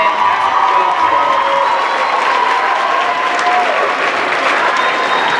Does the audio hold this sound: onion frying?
no